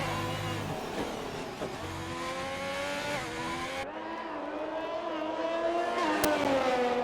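A race car at Mexico in a sim racing game, on medium tyres through the stadium section, with a steady high engine whine rising and falling through gear changes, close and continuous, a brief tyre squeal near the end.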